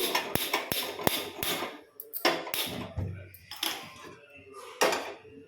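Cooking pot set down on a lit stove in a home kitchen, with a series of sharp metallic knocks and clatters of varying loudness, close by, while a person talks.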